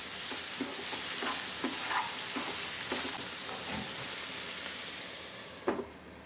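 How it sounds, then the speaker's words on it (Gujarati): Capsicum, tomato and other vegetables cooking in a pan for paneer bhurji make a faint, steady sizzle punctuated by light, irregular stirring clicks and taps. "કેપ્સિકમ નાખીશું, આ બધાને મિક્સ કરીને થોડી વાર ચડવા દઈશું"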